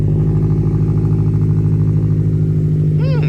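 A car is pulled out and driven off without warming up, its engine running close and steady with an even, throbbing drone, and a brief warbling sound enters near the end.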